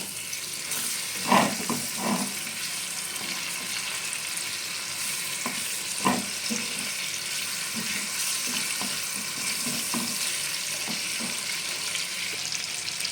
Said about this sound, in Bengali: আমি রান্নাটার মধ্যে একটু চিনি ইউজ করব যেটা তেলের মধ্যেই দিয়ে দিলাম